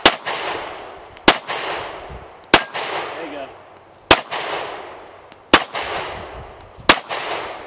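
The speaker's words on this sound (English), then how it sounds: "Shoot this side now." Six loud rifle shots with XM855 rounds strike an AR500 Level III steel armor plate outdoors, arriving about every one to one and a half seconds, each sharp crack followed by a ringing clang and a decaying echo.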